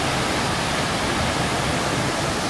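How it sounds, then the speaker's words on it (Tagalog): Water pouring out of a dam while its flow is still fairly low, a steady, dense broadband rush that holds even and unbroken throughout with no voices over it. "Sa ngayon, medyo maliit pa lang yung tubig na lumalabas dito sa dam"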